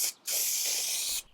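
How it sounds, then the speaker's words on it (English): Spray contact adhesive hisses steadily from a can onto veneer for about a second, a close, loud aerosol burst with brief quiet before and after. "To apply the veneer, I use spray contact adhesive"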